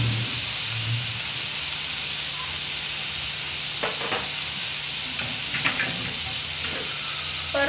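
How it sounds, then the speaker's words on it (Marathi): Drumstick leaf bhaji being stir-fried in a pan, a steady loud sizzle and hiss with a few scraping stir strokes from a spatula partway through. "व्यवस्थित परतून घेऊया।"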